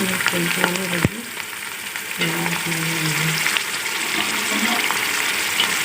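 Beef pulao cooking with bone-in beef as yakhni broth goes into a hot pan: steady loud sizzling and bubbling with a brief sharp splash, carrying on evenly throughout.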